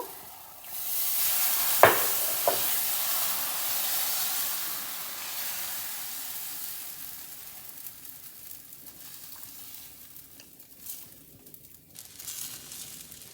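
A black chana dosa sizzles on a hot pan with a loud, steady hiss of steam and frying. A couple of sharp clicks come early, then the sizzle gradually quiets with occasional small crackles.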